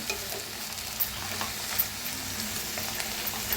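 Wilted fenugreek leaves are stirred in a kadai, producing a steady, fairly loud sizzle and frying hiss with faint scrapes and soft clicks of the spoon throughout.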